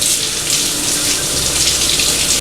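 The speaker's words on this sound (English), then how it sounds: "make sure you rinse your onion and your tomato. Just rinse it off." Tap water runs in a loud, continuous, close gush as an onion and tomato are rinsed underneath it, steady from start to finish with no talking.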